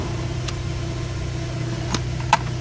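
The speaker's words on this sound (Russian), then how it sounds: "Печка дует." The cabin heater fan of a VW Golf blows with a steady, low whooshing hum inside the car, broken by a few brief clicks and ticks, with no talking.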